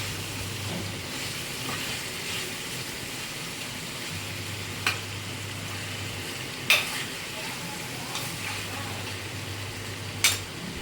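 Canal-caught jella fish pieces being stirred with masala in a pan, a steady soft sizzle with occasional sharp clinks of a spoon against the pan, close and alone.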